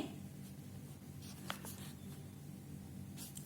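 Pen or pencil drawing a line on paper during a class 6 maths symmetry lesson, faint scratchy strokes with a brief sharper scrape midway, quiet over a low background hum.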